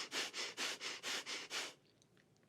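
Breath of fire: six rapid, forceful exhalations and inhalations through the nose in an even rhythm, close and clear, followed by near silence.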